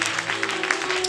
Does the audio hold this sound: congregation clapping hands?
yes